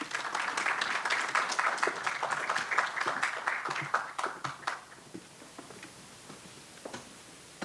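An audience at a civil engineering event in Lima applauds, sustained clapping that thins out and fades to a few scattered claps near the end.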